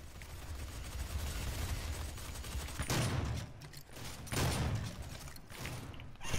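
Gunfire in DOOM multiplayer, with shotguns in use: two heavy blasts about a second and a half apart stand out over a dense, continuous bed of combat noise, moderately loud.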